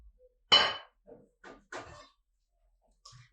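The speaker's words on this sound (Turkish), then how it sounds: "Bir tenceremizin içerisine yıkamış olduğumuz patateslerimizi yerleştiriyoruz." A few separate knocks and clunks as washed potatoes drop into a metal pot, one sharper hit followed by softer bumps, in a quiet room.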